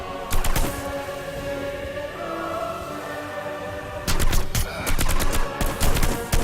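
Bursts of rapid gunfire in Hitman: Blood Money, loud and close, with a long quiet stretch of low ambience between two flurries of shots.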